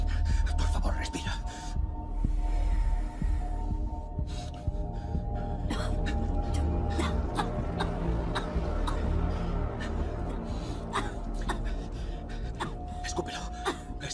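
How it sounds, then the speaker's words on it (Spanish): A person coughs hard and gasps for air in repeated ragged bursts of harsh, wet coughing and strained breaths, close to the microphone, with breathy voiced sounds in between. "Vamos, sigue tosiendo, lo estás haciendo bien."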